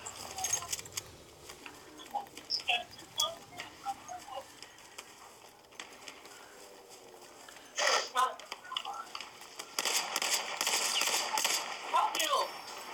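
Video game gunfire during a Twitch stream, sharp isolated shots spaced irregularly, then a denser burst of rapid firing near the end, loud and close with a voice talking between shots.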